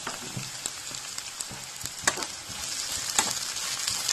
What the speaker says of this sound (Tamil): இது நல்லா ஃப்ரை பண்ணலாம்.